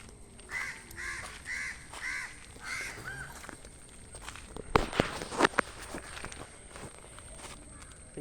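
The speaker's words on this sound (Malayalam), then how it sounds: "ഇഷ്ടംപോലെ കാക്കകളുണ്ട് ഇവിടെ." Crows in a quiet spot give a quick run of about six loud caws, followed by scuffing footsteps and a few sharp knocks nearby.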